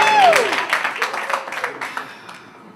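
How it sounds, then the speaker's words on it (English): Clapping from the audience at a literary reading series evening, scattered hand claps that trail off and thin out, with a voice briefly sounding over the start as the applause fades toward quiet. "Keep clapping."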